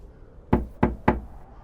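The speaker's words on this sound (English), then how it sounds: "Knock, knock." Three sharp, evenly spaced knocks on a door in the video game Lake: Seasons Greetings DLC, close and distinct against a quiet background.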